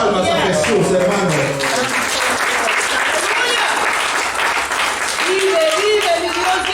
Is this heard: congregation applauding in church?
yes